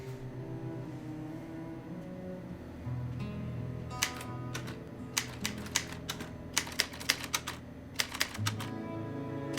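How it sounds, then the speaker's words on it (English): Typewriter keys clatter in a film scene, starting a few seconds in with sharp bursts of clacks that come faster toward the end, over a low hum of background music. "Punch the keys, for God's sake!"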